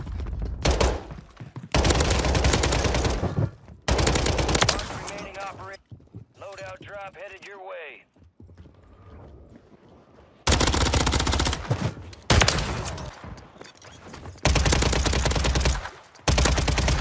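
Bursts of automatic gunfire from Call of Duty Warzone on Rebirth Island rattle loudly in long sustained volleys, broken by a quieter gap with other game effects in the middle; a player talks over the action.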